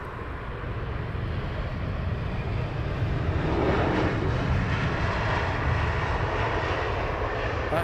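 An aircraft arriving at Heathrow Airport gives a steady, loud engine roar that swells slightly midway, with no talking.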